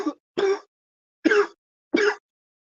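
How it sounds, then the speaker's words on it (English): Four short, dry coughs come in an uneven sequence, close and fairly loud, with silence between them. "I just cough all the time"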